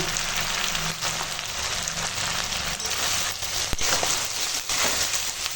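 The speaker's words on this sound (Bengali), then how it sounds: "দিয়ে একটু মশলাটার সঙ্গে কষিয়ে নিই" Vegetables sautéing in oil with turmeric, chilli powder and salt, a dense continuous sizzle like light rain, with occasional soft stirring scrapes and a sharp clink near the middle.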